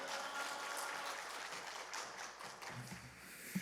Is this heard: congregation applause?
yes